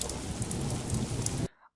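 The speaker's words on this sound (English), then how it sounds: "rainy and storm" Steady heavy rain pours onto surfaces with a low thunderstorm rumble underneath, a dense, loud wash lasting about one and a half seconds before cutting off.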